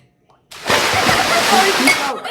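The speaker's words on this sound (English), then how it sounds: "Measure out a half cup of veggie oil." Vegetable oil poured from a half-cup measure into a kitchen bowl, a steady close splashing, sloshing pour lasting under two seconds after a brief quiet start.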